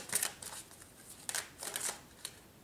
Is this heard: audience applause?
no